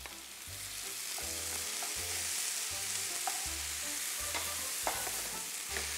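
Onion and tomato sizzling in a pan while being stirred, a steady fry under repeated scraping strokes of the spoon in a regular rhythm, close and fairly loud.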